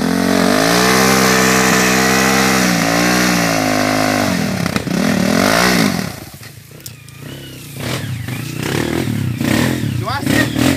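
A Honda CRF 230 dirt bike accelerates on a trail, its engine revving loudly close by with rising pitch sweeps before dropping away, while people shout and cheer in the background.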